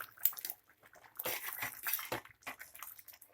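Sambar of amaranth stem greens (dantina soppu) boiling in a pot is stirred, giving wet sloshing and scraping with bubbling, in a short busy burst of splashy movement near the microphone; no one speaks.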